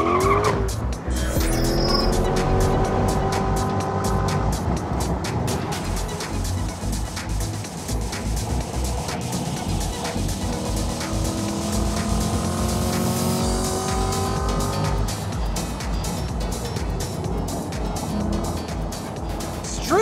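A 2020 Chevrolet Corvette Stingray Z51 on cheap tires laps a race track, its engine revving hard through rising and falling gear changes while tires squeal loudly through the turns, close and continuous.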